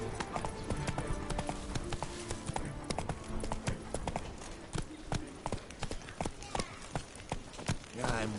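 A horse gallops in The Witcher video game, its hooves making a quick, steady clip-clop that runs throughout at moderate loudness, over game sounds and a voice speaking now and then.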